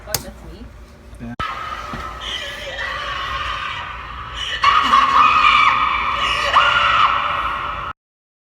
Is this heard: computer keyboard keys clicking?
no